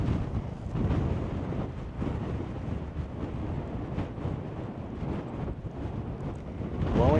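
Strong wind buffets the microphone on a high, rough volcanic mountain top, with loud, continuous gusting roar and rumble throughout.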